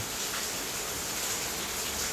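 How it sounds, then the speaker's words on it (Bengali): Heavy rain falls over a village in Bengal, a dense, even wash of noise that holds steady and close throughout. "আমাদের এলাকাতে প্রচুর বৃষ্টি হইতেছে"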